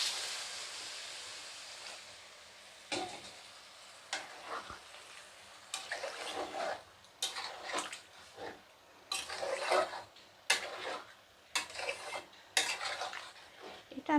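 Jackfruit and potato curry simmers in a wok after hot water is added, a faint bubbling with repeated scraping and stirring strokes of a spoon against the pan.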